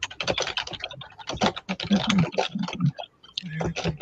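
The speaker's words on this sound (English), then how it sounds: "Is that the video with the people typing, or is y'all typing?" Computer keyboard typing, fast clustered clacks and clicks in dense uneven bursts, loud and close, with a brief pause near the end and a voice mixed in underneath.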